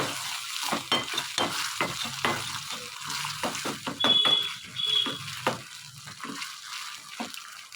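A spoon stirs soy sauce and red chilli sauce in a hot pan for green pea manchurian, with repeated close scraping strokes over a steady sizzle.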